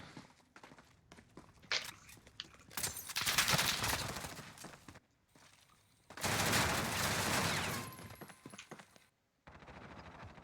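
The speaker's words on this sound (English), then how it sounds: "Watch some of this AK gameplay." AK rifle fire in Call of Duty: Modern Warfare, heard as sustained automatic bursts, two long loud volleys with scattered shorter shots and quieter gaps between them, fairly close.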